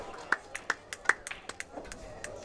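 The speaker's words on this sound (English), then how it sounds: "I'll applaud that one." Hands clap in a quick, uneven series of about a dozen light claps after a pool shot at a pool match, fairly quiet and close.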